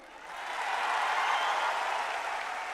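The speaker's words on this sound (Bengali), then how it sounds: "তালিটা আর একটু জোরেই হোক" Studio audience applause on a Bangladeshi TV music show, a sustained wash of clapping that swells and holds steady, loud and dense, with no talking over it.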